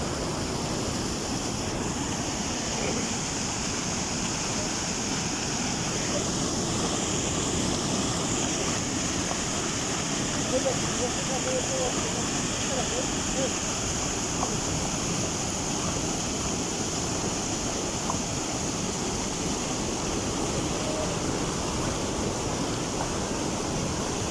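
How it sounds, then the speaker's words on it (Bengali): Floodwater surges through a wadi in Oman after heavy rain, a steady, broad rushing roar that holds unbroken and fairly loud throughout, with no voices over it. "পানি স্রোত দেখেন।"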